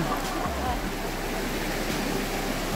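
Rising mountain stream on Mt. Banahaw rushing steadily, a broad continuous hiss of flowing water with a brief low thump or two underneath.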